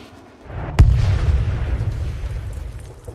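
A HIMARS rocket strike detonates on a military system, a single sharp blast followed by a deep rumbling boom that rolls on and slowly fades, heard at a distance with no talking.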